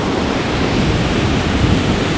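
Pacific Ocean surf washes onto a beach as a dense, continuous roar of broadband noise, close and loud, with no voices.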